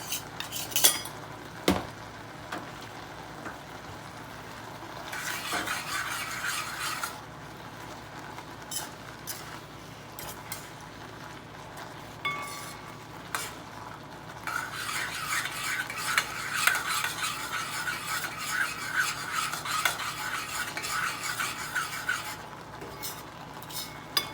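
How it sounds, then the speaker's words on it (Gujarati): A spoon scrapes and stirs around a pot of beetroot halwa simmering in milk and sugar, with metallic clinks and rubbing sounds that come in bursts over a low bubbling hiss and continue steadily for the whole stretch. "હવે આ દૂધ પડી જાય ત્યાં સુધી એને અલાય અલાય કરવાનું છે ચોટે નહીં એનું ધ્યાન રાખવાનું"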